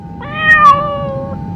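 A single drawn-out cat meow, clear and close, rising then falling over about a second against a low steady background hum, with no talking.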